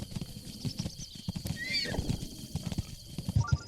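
Riding a deer in the video game Breath of the Wild brings quick galloping hoofbeats and a short whinny-like call, all fairly quiet, without speech.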